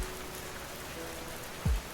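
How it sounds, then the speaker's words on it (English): Steady rain patters in a children's cartoon, a soft continuous hiss of drops with one brief low thump near the end. "But, Anu, it's raining non-stop today."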